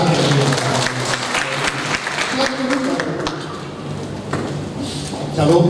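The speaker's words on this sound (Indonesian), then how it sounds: "Tepuk tangan." Church congregation clapping during a worship service, a steady wash of applause that carries on under speaking voices for the whole stretch.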